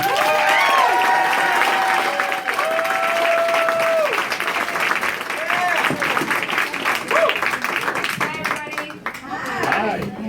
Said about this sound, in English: Please give it up for Miss Constance Anna, everyone